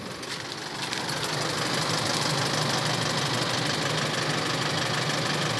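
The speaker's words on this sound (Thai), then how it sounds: "เช็ค รถกันนิดนึง วอร์มเครื่องกันนิดนึง" An Isuzu 3000 truck's diesel engine idles while warming up, a loud, close, steady knocking rumble that holds without a break throughout.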